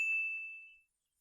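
A single bright notification bell dings once, a clean metallic tone ringing out and decaying to silence within a second, alone with no voices.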